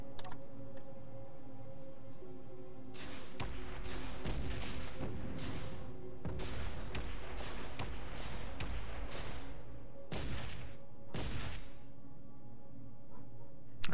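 Weapon shots striking three spaced layers of light armor in the game Space Engineers, heard as a run of about ten loud, sharp bursts in irregular rhythm over a steady droning background, with no talk.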